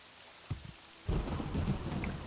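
Rain and thunder in the video game Morrowind Remastered: a quiet lull with a soft thump, then a loud rolling rumble of thunder breaks in over steady rain and keeps growling to the end, with no talking.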